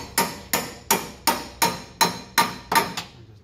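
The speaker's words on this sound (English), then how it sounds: "Take your hammer." Sharp metallic hammer blows knock a transmission part loose on a Ford Transit T-250 during transmission removal, eight evenly spaced strikes about half a second apart, close and loud, with no talking.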